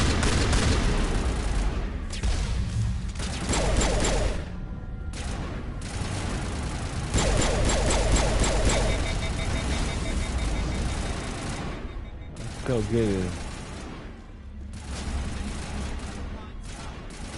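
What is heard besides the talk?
gunfire from a video game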